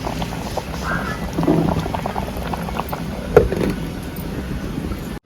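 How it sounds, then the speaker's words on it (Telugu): Andhra pappu charu, a lentil soup, bubbling in a covered pot, a soft steady simmer with small pops and faint rattles throughout. "ఇప్పుడు మూత పెట్టుకొని ఇంకొంచెంసేపు ఉడకనిద్దాం"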